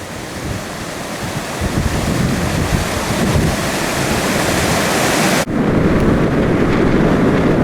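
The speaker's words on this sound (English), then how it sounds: "There's about 40-mile-an-hour wind and driving rain." Strong wind of about forty miles an hour with driving rain on an open winter moor, a loud, unbroken roar buffeting close against the microphone, no voices.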